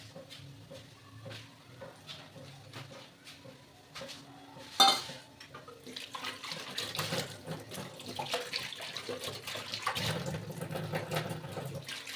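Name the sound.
scrubbing and washing pots and dishes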